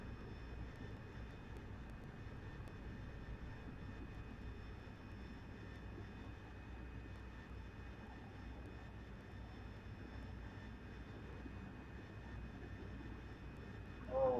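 Simulated AV-8B Harrier jet engine in the DCS flight simulator, a steady, fairly faint broadband roar and whine holding constant without pause, no talking.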